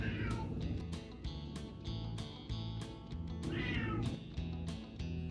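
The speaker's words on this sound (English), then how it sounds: "My cat won't shut the fuck up." A house cat meows loudly and insistently, a string of repeated yowls, some drawn out and rising, coming close and alone with no talk over them.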